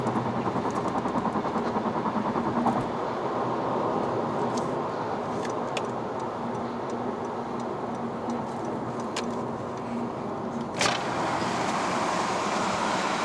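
Inside a 2022 Honda Civic RS with a CVT on a test drive in Malaysia, a steady engine and road drone fills the cabin, with faint ticking and a single louder knock near the end.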